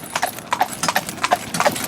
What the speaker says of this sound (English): If we ask her, Rolo, up, trot, trot.